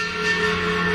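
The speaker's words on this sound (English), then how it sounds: "What I do is I really just it's this screechy metal sound." A screechy scraping-metal sound effect used as a tense, dissonant swell, a steady harsh grinding texture holding at even loudness throughout.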